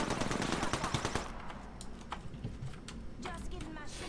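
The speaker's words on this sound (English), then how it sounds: "there's somebody shooting at us" Rapid automatic gunfire from the Apex Legends video game rattles in a dense burst for about a second, then gives way to scattered shots and clicks while players talk over the game.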